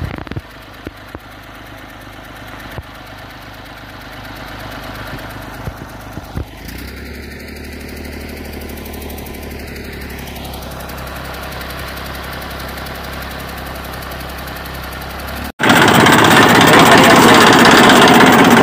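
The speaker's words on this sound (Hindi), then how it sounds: "देखिए ट्रैक्टर भी" Tractor engine running near a cow shelter in Neem Ka Thana, a steady mechanical drone holding from about six seconds on, with a loud, harsh noise burst near the end.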